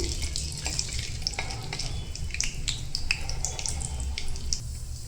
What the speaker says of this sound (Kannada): ಕಾದಿರೋ ತುಪ್ಪದಲ್ಲಿ ನಾನು ಫಸ್ಟು ಗೋಡಂಬಿ ಹಾಕ್ಕೊಳ್ತಾ ಇದ್ದೀನಿ